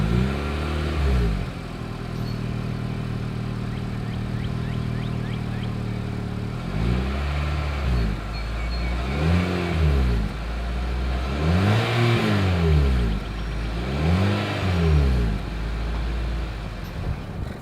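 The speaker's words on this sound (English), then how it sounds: "As always, here is that exhaust clip." A 2022 Mitsubishi Outlander SUV with a single exhaust outlet idles steadily, then revs in four repeated swells that climb and fall, recorded close to the tailpipe with no talking.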